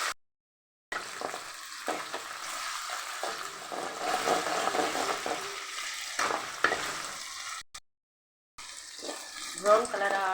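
Onions sizzle in hot oil alongside green chillies and curry leaves while an egg curry is being made, a bright crackling frying hiss with stirring scrapes, broken by a couple of brief silent cuts.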